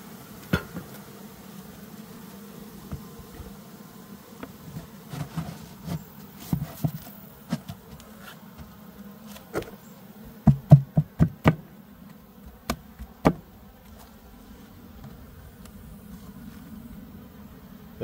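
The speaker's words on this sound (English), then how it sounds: "There's a bee down there fighting" Bees buzz in a low, steady drone at an open beehive, broken by scattered sharp knocks and taps of handling the hive, with no talk.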